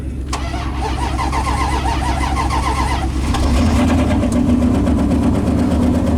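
An old Dodge truck engine cold-starts after a brief crank, catching with a loud rough rumble and settling into a steady, heavy idle that rises slightly in level.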